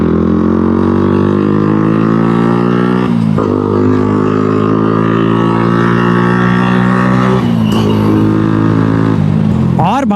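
A 125cc motorcycle engine with an aftermarket exhaust drones loud and steady at cruising speed, with dips where the rider lets off the throttle around three seconds and seven and a half seconds in, then a quick rev near the end.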